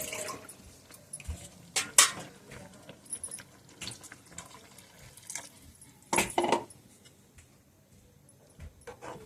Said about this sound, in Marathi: पाणी घालून घेऊयात.